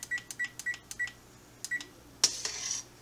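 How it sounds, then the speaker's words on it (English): A kitchen timer switched on during an extract beer brew, a rapid series of short electronic beeps in an uneven rhythm, followed by a brief burst of hiss or clatter. "Turn the timer on."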